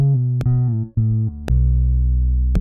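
An R&B guitar sample at its original pitch, made in FL Studio: a short run of about five clean, sustained plucked notes stepping through a phrase. Each note rings clearly, with no voices.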